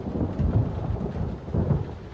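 Low rolling thunder rumbles through steady rain, a dull continuous wash with swelling surges and no voices.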